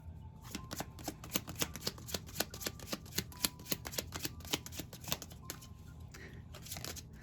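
Tarot cards being shuffled by hand, a fast run of crisp riffling clicks and slaps in irregular bursts, close and moderately loud with no talking.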